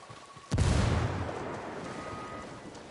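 A frag grenade bursts in the Ghost Recon video game: one sudden, loud, deep blast roughly half a second in, followed by a long, rumbling decay that slowly fades.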